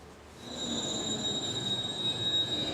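A London Underground tube train pulls away from a platform with a sustained high metallic wheel squeal over a steady low rumble, loud and close.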